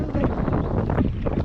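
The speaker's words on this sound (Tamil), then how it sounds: "இளங்காத்து வீசுதே" A gentle breeze on a forest hill trek brushes across the microphone as a soft, steady rumble with slight gusty swells. It stays low and continuous throughout.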